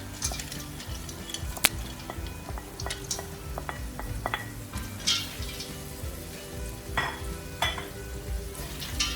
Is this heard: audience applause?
no